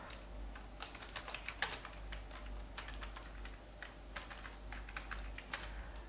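Quiet, rapid typing of Python code on a computer keyboard, an irregular stream of soft key clicks with a few sharper taps, close and alone over a faint steady hum.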